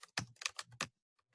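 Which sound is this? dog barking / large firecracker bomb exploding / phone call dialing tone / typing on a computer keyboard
typing on a computer keyboard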